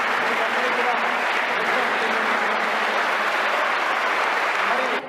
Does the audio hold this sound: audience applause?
yes